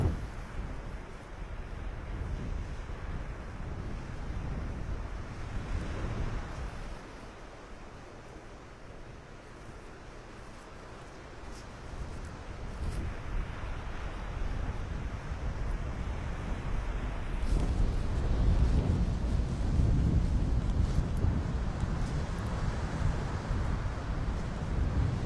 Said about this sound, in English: it's blowing quite a wind down here